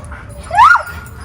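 A dog gives a single short whining yelp that rises and falls, fairly close, while other dogs are being boarded and socialized together, over a low background hum.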